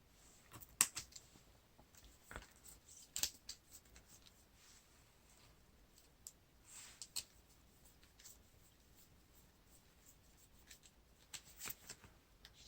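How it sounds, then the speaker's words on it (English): Quiet, scattered riffling and clicking of a deck of game cards being shuffled, in short irregular bursts with pauses between. "Shuffle the encounter deck."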